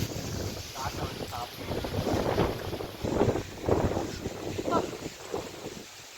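Strong wind blows outdoors and buffets the microphone in a continuous, rumbling rush that swells and eases in gusts, with faint voices underneath.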